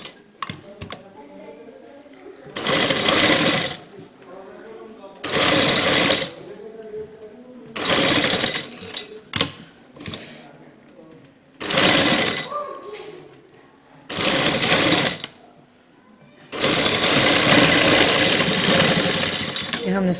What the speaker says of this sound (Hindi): ये हमने सिलाई लगा दी है